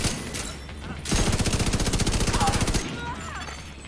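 Rapid automatic gunfire in The Division 2, a dense burst of evenly spaced shots lasting about two seconds, loud and close, set between quieter stretches of ambient game noise.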